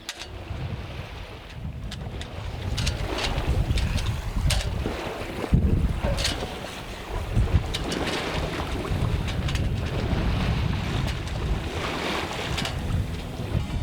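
A 27 ft sailboat sails at sea under jib alone, with wind buffeting the microphone and water rushing and slapping against the hull in a continuous, fluctuating wash.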